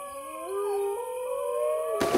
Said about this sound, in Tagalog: Natakot ka sa alulong ng mga aso?